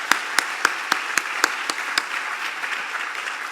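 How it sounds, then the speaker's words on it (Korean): A church congregation applauds its choir during a Sunday service, with loud, evenly spaced claps standing out over a softer bed of clapping that gradually settles into a quieter, steady patter. "한 번 더 격려와 감사의 박수 부탁드리겠습니다"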